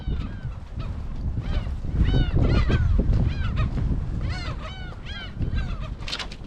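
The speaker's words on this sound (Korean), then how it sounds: "갈매기 봐, 갈매기 봐." A flock of gulls calls near the Hwangsando harbor fish market, with loud, dense, overlapping cries that peak in the middle over constant low background rumble.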